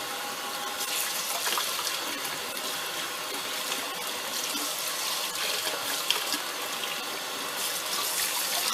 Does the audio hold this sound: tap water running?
yes